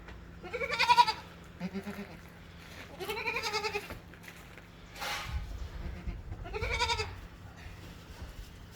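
A young female Sirohi goat kid bleats several times, wavering, nasal cries spaced a second or two apart, close by, with a faint hum underneath.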